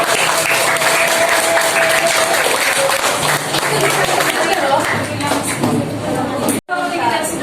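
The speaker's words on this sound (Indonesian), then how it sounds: "Mari kita beri tepuk tangan kepada" A class applauds after a debate, steady clapping mixed with student chatter and voices, continuing until a brief cutout near the end.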